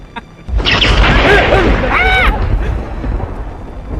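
Loud, deep thunder rumbles through a storm, rolling on for several seconds while voices shout over it, then easing to a lower, steady roar.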